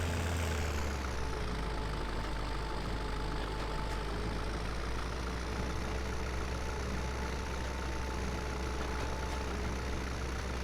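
A tractor in Farming Simulator 17 drones steadily while running a baler, a constant heavy engine hum with a faint whine on top and no breaks.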